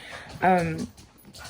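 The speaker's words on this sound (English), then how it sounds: "I'm so sorry about my dogs." A single short, high-pitched dog whimper rises and fades in under a second against a quiet background.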